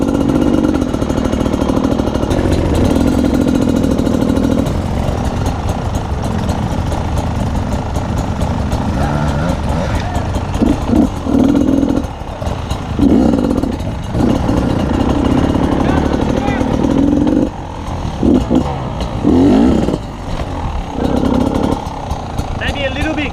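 A motorcycle engine roars loud and close almost continuously, its throttle rising and dropping in repeated revs, with a voice talking over the noise.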